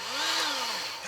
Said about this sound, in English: a power grease gun?